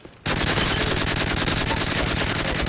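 A light machine gun fires in a video game, one loud, sustained automatic burst that starts abruptly after a brief quiet moment and rattles on steadily to the end.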